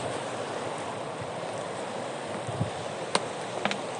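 A river runs with a constant close rushing flow in a wild outdoor setting, with a few faint clicks and taps over the steady water noise and no talking.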